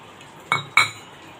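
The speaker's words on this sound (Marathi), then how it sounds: "आता पाणी घालून आपण हे सर्व मिक्स करून घेऊया" A utensil clinks twice against a bowl while coriander fritter batter is mixed with water, two sharp close knocks about a quarter second apart, then quiet.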